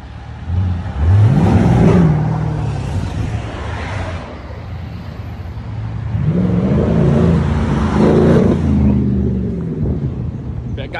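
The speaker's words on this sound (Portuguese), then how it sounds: "E lá vem os primeiros carros." A convoy of sports cars, including a Ferrari SF90 and a 488 Spider, passes on a road, engines swelling loudly in two waves as the cars approach and rumble by.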